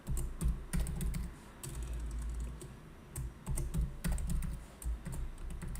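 Rapid typing on a computer keyboard while entering the VMware ESXi root password during a vSphere 7 installation, with steady close clicking bursts and brief pauses, no talking.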